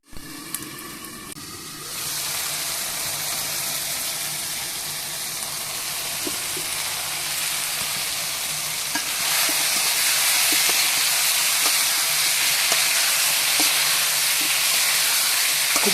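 Chicken curry with potatoes being sautéed (koshano) in oil in a pan, a loud continuous close sizzle and hiss that swells slightly louder partway through, with occasional stirring clicks and no talk.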